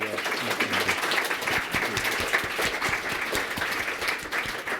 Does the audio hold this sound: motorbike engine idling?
no